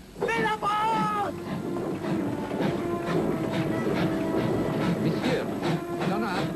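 A train rolls along with rhythmic clatter and rumble, opening with a brief high squeal, while voices shout over it.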